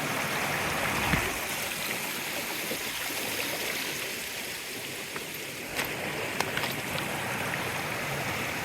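Nancy Brook, a mountain stream, rushes and splashes steadily over rocks close by, a continuous broadband water roar with no speech.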